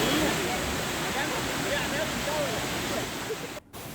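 A waterfall at Amboli in the monsoon rain sends out a dense, steady roar that fills the whole stretch, briefly dipping near the end, with a faint voice underneath.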